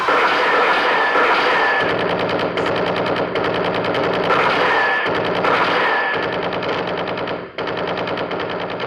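Sustained bursts of rapid machine-gun fire in a Hindi radio drama about a massacre, loud and relentless, rattling on for several seconds with brief breaks and no voices over it.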